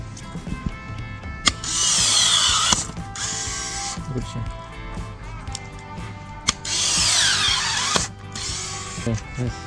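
LIGO cordless electric pruning shears whir up twice in motorised bursts to cut through a thick branch, with sharp clicks and mechanical clacks between the runs.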